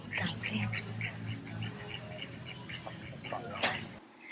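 A flock of ducks wandering in a cafe garden near Bangkok gives scattered, soft quacks and chirpy calls against a low background murmur. Quiet voices talk faintly underneath.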